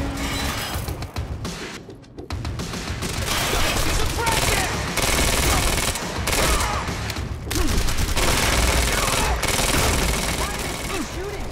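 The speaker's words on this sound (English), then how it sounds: "Shooting!" Dense bursts of automatic gunfire in the video game Quantum Break during a library chase, loud and near, rattling almost continuously with brief gaps, with voices talking over the shooting.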